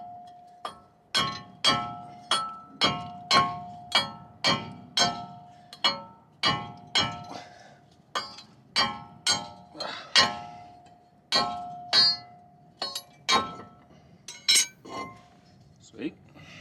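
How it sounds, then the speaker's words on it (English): A hammer strikes a brake rotor on a 1998 GMC K3500 dually about twenty times, sharp metallic clanks in an irregular rhythm with brief ringing after each hit. "take some sort of hammer and try to get that thing off there"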